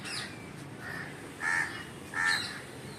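A crow caws outdoors, giving several harsh calls spaced about a second apart, the last two louder and nearer, over a soft background hush.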